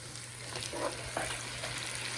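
Chicken sauce piquante stirred in a pot, a faint steady simmering sizzle with soft scraping strokes of a spoon through the thick sauce.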